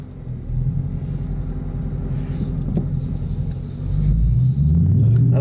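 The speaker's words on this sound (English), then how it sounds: "here in the very loud 2017 Dodge Challenger RT" Deep, loud rumble of a 2017 Dodge Challenger R/T with its Hemi V8, droning steadily from inside the car and swelling louder near the end as it accelerates.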